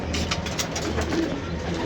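Pigeons cooing close by in a steady soft murmur of low calls, with faint background noise and no clear talking.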